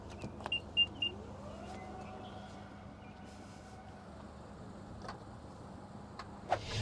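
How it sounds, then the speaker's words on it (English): Electric motor of the power-return third-row seat in an Infiniti QX60 Autograph, a faint steady whir rising and holding for a few seconds inside the quiet cabin, with a few small clicks around it. "I can actually just press these buttons and have the third row come back up"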